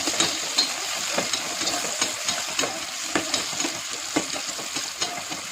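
Spicy chicken feet are stirred in a pan, with a spatula scraping and clicking in irregular strokes over a steady sizzle, close and clear with no talking.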